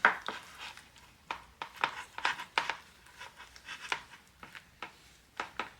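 Tacky glue and paint being stirred together in a small container for dollhouse miniature vines: quiet, irregular clicks and scrapes of the stirring tool against the sides, close by and otherwise quiet.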